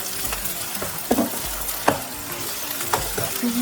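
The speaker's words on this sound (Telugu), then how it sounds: "అల్లం వెల్లిగడ్డ పేస్ట్ కొంచెం మంచిగా పచ్చివాసన పోయి వేసుకోవాలి" Ginger garlic paste sizzles in hot oil for a Telangana-style crab curry, a close, steady frying hiss with a few sharp stirring scrapes and spatters, alone without voices.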